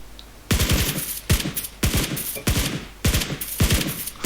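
Automatic gunfire in the battle royale game PUBG Lite, loud and close, firing in several long sustained bursts separated by short gaps.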